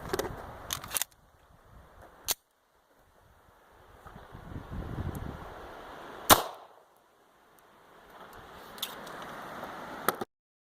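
A 9mm pistol fires a Remington 147 grain Golden Saber round into ballistic gel outdoors, with sharp, loud reports standing alone among quieter handling and wind noise.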